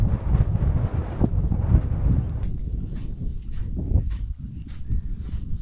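Strong wind buffets the microphone beside a cold lagoon in Argentina, a loud, gusty rumble that pulses and surges throughout with no voices.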